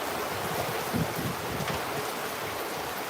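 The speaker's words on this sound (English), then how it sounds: "A lot of hard rain right now going on." Heavy rain during a storm in the Philippines, a dense, steady roar of downpour with wind noise, loud and unbroken with no voices.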